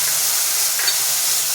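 Mustard and green chili paste sizzles loudly in a hot pan, a dense, continuous hiss that stays steady throughout.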